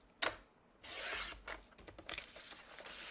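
Designer series paper trimmed for card making, a sharp click followed by a long scraping swish of a blade gliding through the sheet and some shorter rubbing strokes, close and quiet.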